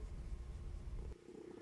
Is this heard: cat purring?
yes